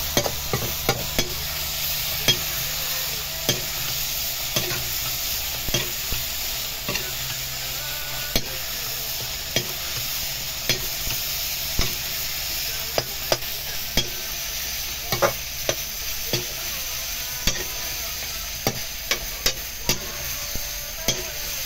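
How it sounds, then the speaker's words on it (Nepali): Tomatoes fry in a pan with a steady, close hiss and sizzle, while a utensil scrapes and taps against the pan in regular stirring strokes throughout. "टमाटर भइसक्यो, थोरै देर यसलाई भुट्छु।"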